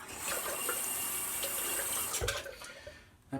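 A bathroom tap runs cold water for a rinse after a shave, a steady close hiss of flow into the sink that cuts off near the end with a brief knock.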